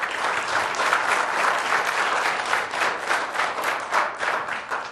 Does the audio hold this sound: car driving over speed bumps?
no